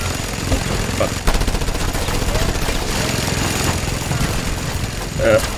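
A mounted machine gun rattles in continuous heavy fire in the video game Just Cause 2, loud and unbroken throughout, over an engine-like drone.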